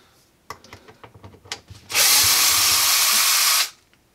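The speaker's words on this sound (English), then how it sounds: "you could drill it in the top" A power drill drives a screw during a DIY dishwasher installation, one loud steady whir lasting under two seconds after a few light clicks and knocks of handling.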